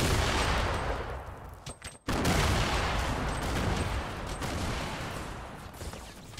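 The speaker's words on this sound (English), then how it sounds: "They're shredding me with a minigun." Rapid minigun fire in a shooter video game rattles in continuous sustained bursts with a short pause midway, dense and fairly loud, with other game effects in the background.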